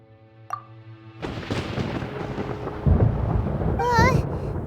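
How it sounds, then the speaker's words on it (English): Thunder in the Genshin Impact video game rolls in as a deep, loud rumble that swells and carries on through the clip over game music, with a brief bright chime near the end. "Paimon hears thunder!"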